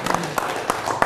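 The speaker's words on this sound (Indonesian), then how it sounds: "tepuk tangan" Brief audience applause at an Indonesian national dialogue gathering, a few scattered claps over a murmuring hall with voices in the background.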